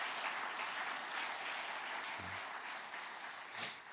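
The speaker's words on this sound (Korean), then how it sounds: "우리 모두를 위해서 함께 축복의 박수하겠습니다." Church congregation applauding together in a blessing clap, a steady, fairly faint wash of clapping from a large crowd filling the whole clip.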